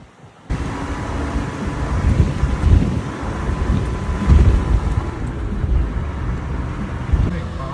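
A small 660cc car engine hums and drones steadily while climbing a mountain road, mixed with wind rumble over the microphone and surging at moments, with people talking inside the car.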